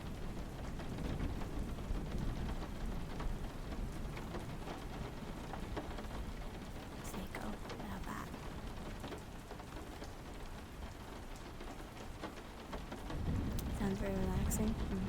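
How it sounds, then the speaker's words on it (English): Rain hits a window in a steady, soft patter of drops on the glass, with faint rumbles now and then and a slight swell near the end, heard up close and quiet. "We can hear the rain hit the window just right."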